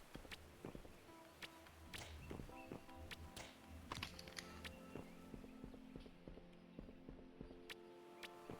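Rhythmic clip-clop hoofbeats of a Horse Dragon mount walking in the game Atlyss, steady and close, mixed with game music and scattered clicks.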